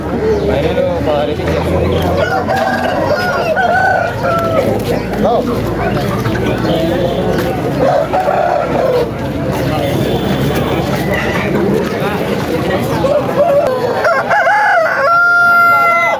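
A rooster crows amid a noisy crowd of people talking at a country chicken market, with other fowl clucking in the background throughout.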